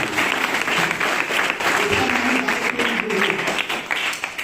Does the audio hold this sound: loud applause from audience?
yes